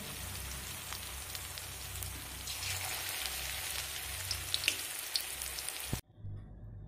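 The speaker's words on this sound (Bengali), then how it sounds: "দেখুন একইভাবে সব পকোড়াগুলো ভেজে নেব।" Raw papaya pakoras deep frying in hot oil: a continuous crackling, bubbling hiss that holds steady at moderate level and then cuts off sharply near the end, with no talking.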